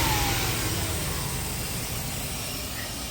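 A car engine idling after a rocker arm valve adjustment drones steadily and fairly loud, a constant hum with no speech over it.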